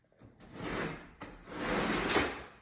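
A sliding door on a timber kitchen cabinet is pushed along its track twice, making close, smooth rumbling slides separated by a brief pause.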